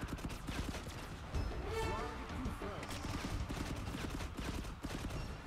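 Rapid gunfire bursts in the mobile shooter game FRAG Pro Shooter, dense and continuous over a busy game soundtrack, with clattering effects and a voice talking throughout.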